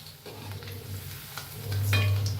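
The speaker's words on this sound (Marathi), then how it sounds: "तेलात तेवढी घालून घेऊया आपण. तेलात फिरवून घेऊया" Chicken 65 pieces sizzling as they fry in hot oil in a home kitchen, a steady close crackle that swells louder toward the end, with no talking.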